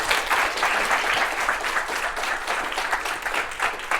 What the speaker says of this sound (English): If we can do another round of applause for you.